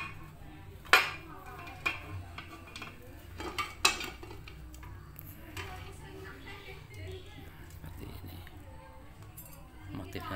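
A super steel egg roll (semprong) mold is opened and handled, giving a few sharp metallic clanks and clinks over a low background hum, quiet and close.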